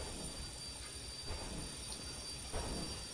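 Train rolling out in the Derail Valley railway game, with a steady low mechanical rumble and faint metallic squeal over continuous track noise, quiet and alone.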